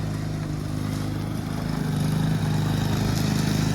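Old, worn Honda push lawn mower running close by, a loud steady chugging engine drone with a fast pulsing rhythm.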